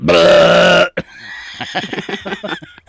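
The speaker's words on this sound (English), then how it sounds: "Oh, I forgot to get my burp sound effect." A loud, long burp sound effect rumbles for nearly a second, then people talk and laugh on a morning radio show.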